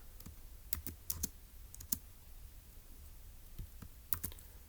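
Sparse, quiet keystrokes on a computer keyboard during a Turing Machine logic puzzle, scattered clicks in small bursts with pauses between them over a low background hum.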